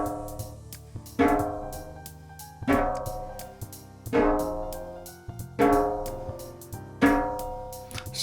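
A snare drum is struck near each tuning lug in turn to compare pitch, giving six evenly spaced single hits about 1.5 seconds apart, each ringing and fading before the next.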